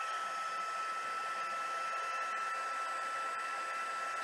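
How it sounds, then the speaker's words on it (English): Heat embossing tool blowing hot air during a rubber stamping craft session, a steady close whirring blow that holds evenly from start to finish. "I'm going to heat emboss real quick."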